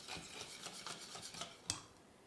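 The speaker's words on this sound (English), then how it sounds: "grab a wire whisk and violently mix all of these dry ingredients together" A wire whisk scrapes rhythmically around a bowl of dry cornbread ingredients, a quick series of raspy strokes with one sharper clink near the end, close and fairly quiet.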